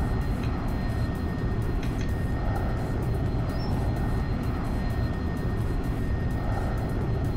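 A Viperjet jet engine in the X-Plane 11 flight simulator gives a steady, loud, low broadband roar with a faint whine, unchanging throughout and with no voices.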